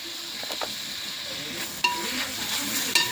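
Tomatoes tipped into a pan of mutton curry masala, hot oil sizzling steadily while a spoon scrapes and stirs, with a couple of sharp clinks near the end; no talking.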